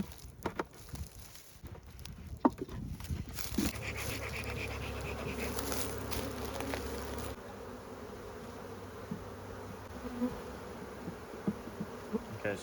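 Honeybees buzzing as a nuc is transferred into a ten-frame hive box, a steady close drone with fluttering wingbeats and an agitated edge, broken by a few thumps and knocks of frames and wooden equipment being handled.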